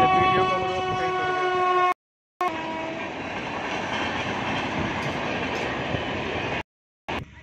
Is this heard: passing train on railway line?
yes